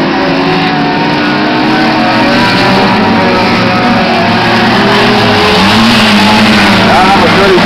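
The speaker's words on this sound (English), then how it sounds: "the challenge on the inside there from Bruce Carradine and the 49 car" Production race cars roar around a circuit in a men's race, engines loud and sustained with pitch shifts as cars accelerate and jostle for position, under a commentator's continuous voice.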